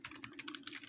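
Quick bursts of keystrokes on a computer keyboard as a web address is typed, close and crisp clicks in an uneven rapid rhythm with no talking.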